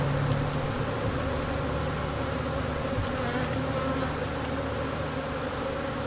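A dense, steady drone of many honey bees buzzing around an open hive during a colony split, loud and continuous with no talk.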